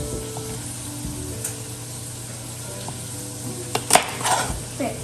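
Asparagus stir-frying in butter in a pan gives a soft, steady sizzle close by. A few sharp clanks of a utensil against the pan come near the end, and no one speaks.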